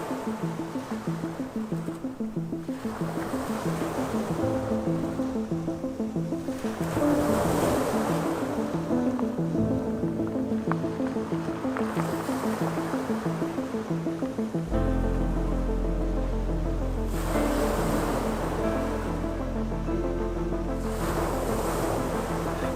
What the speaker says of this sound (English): The sun dances on the waves. Waves play with the rocks.